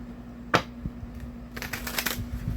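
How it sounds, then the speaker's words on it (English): Shuffling a deck of cards during a spiritual card reading: a crisp snap, then a longer papery burst of flicking cards, close and moderately loud over a steady low hum, with no talk. "So I'm just shuffling the deck here."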